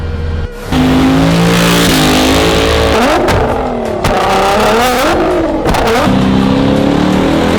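An SUV at a car meet revs hard in loud, close bursts, the engine climbing and dropping several times with some tire squeal and a brief dip at the start.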